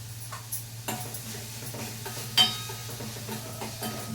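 A spoon stirs a sweet tomato mixture in a pot: soft scraping with a few light taps against the pan, steady and close over a low constant hum.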